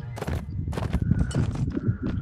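Horse hooves and whinnies from the Mount & Blade jousting game, a busy run of clopping and animal sounds mixed with shouting voices that keep talking over it.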